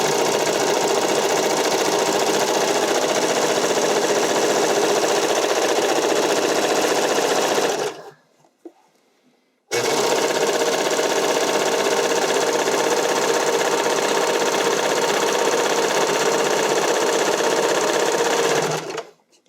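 A serger sews a lettuce edge hem on stretchy spandex for a figure skating dress. The machine gives a loud, fast, steady mechanical whirr that stops for about two seconds and then starts again at the same pace.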